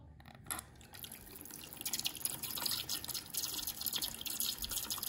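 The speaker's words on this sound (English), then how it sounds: "Here's a normal flush." A mini Kohler Dexter urinal prototype runs a normal flush, with a soft click followed by a continuous hiss and trickle of running water that grows steadier and stays fairly faint.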